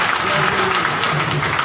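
Audience applause at a poetry gathering (kavi sammelan) at Indore's Kanch Mandir, a steady wash of many hands clapping at moderate loudness.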